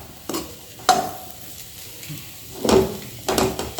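Ground coconut, fennel and garlic masala being stirred in a pan, with a few distinct scraping strokes and a light sizzle between them, close by, with no speech.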